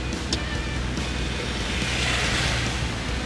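Rainwater rushes down a street during a hail and snow storm in western Ukraine, a steady, loud broadband wash with wind buffeting the microphone and no speech.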